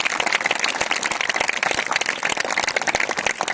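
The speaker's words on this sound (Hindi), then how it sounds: "जोर से ताली बजाकर जीवित परमेश्वर का धन्यवाद करें।" A church congregation claps loudly and steadily, with dense, crowded hand claps sustained throughout the clip and no talk over them.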